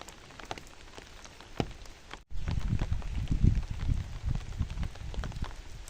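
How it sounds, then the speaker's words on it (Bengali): Steady rain patters and drums on a surface, growing heavier and closer partway through, with no voices. "অঝারে বৃষ্টি পড়ছে এখন একটু কম"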